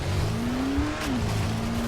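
Engine drone of a car in Dying Light The Following, a steady mid-pitched hum that rises then dips, held close and loud for about two seconds with no voices.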